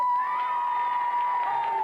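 A studio audience at a 1993 children's television show cheers and applauds, a bright crowd roar with shouts and whoops over a sustained tone, moderately loud throughout.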